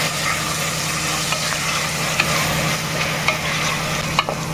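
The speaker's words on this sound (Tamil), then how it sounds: "டொமேட்டோ தக்காளி நல்லா சாஃப்ட் ஆயிடுச்சு. நல்லா மிக்ஸ் பண்ணிக்கோங்க." Tomatoes stirred in a pan of gongura mutton curry, with a steady close frying sizzle and a few soft scraping clicks from the spoon throughout, no voices.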